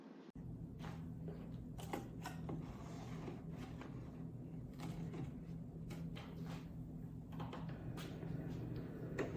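A craft cutting machine loading vinyl on a standard grip mat, producing a steady low mechanical hum and whir with faint clicks and rattles throughout, close and fairly quiet.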